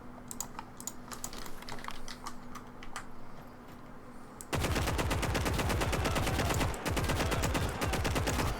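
Sustained machine gun fire in the World War II video game Gates of Hell Ostfront, loud rapid bursts that start abruptly partway through after quieter scattered battle noise, continuing with a brief pause near the end.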